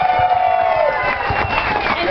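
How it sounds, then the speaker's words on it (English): A convention fashion show crowd cheers and whoops for the organizer, a loud continuous roar of voices with yells over it, while a host speaks. "give it a round of applause for Lisa, guys"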